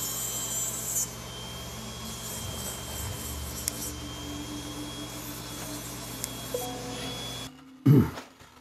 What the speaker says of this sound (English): use a disc sander that works off the flex shaft with a fairly aggressive paper, just to trim up the base and make sure she'll stand properly